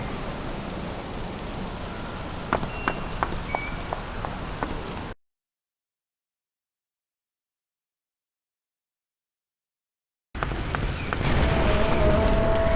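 Video game rain (Lemony Snicket's A Series of Unfortunate Events) patters steadily on a surface, broken by a stretch of total silence, then resumes with a faint tonal hum underneath.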